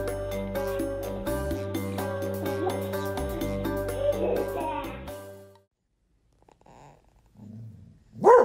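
A puppy growls and gives a short, loud bark near the end, after a stretch of music and a quiet pause with faint household sounds and a voice.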